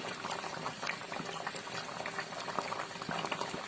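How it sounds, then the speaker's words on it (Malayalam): Fish head curry made with kera fish bubbles at a steady boil in a pot, a continuous close, dense burbling with no talk. "നമ്മുടെ മീൻ നന്നായിട്ട് തിളച്ച് വരുന്നുണ്ട് കേട്ടോ"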